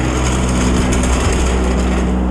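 An electric fan runs loudly in a hot garage during suspension work on a turbo Camaro, giving a steady, continuous whir and hum that holds constant throughout with no talk.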